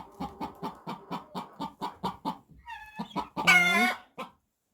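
Homestead hens cluck in a steady, evenly spaced run of close calls, broken by a brief higher squawk and a louder drawn-out cry near the end before quiet; no people speak.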